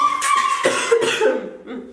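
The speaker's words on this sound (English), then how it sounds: "I've been coughing" A single person coughs forcefully a few times in quick succession, close and fairly loud, with no talk.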